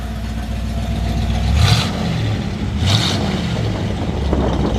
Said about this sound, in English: take a listen to that exhaust.